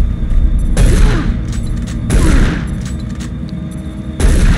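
Shotgun blasts in the video game Doom 3, three heavy booming shots spaced a second or two apart, loud and close, each trailing off into a rumbling decay.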